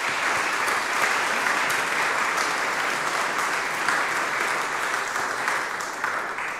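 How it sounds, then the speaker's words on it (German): Audience applause after a conference talk on QGIS cartography improvements: dense, steady clapping from a sizeable crowd, held at an even level throughout without any talk over it. "Einen großen Applaus"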